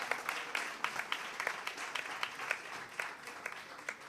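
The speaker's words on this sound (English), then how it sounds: "round of applause" A quiz audience gives a round of applause as scores are announced at a national financial literacy quiz. The clapping is fairly faint and distant, a steady patter of many hands lasting throughout.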